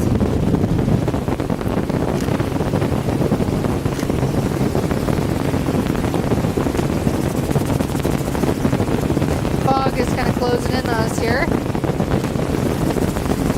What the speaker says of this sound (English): it's getting windy around these cliffs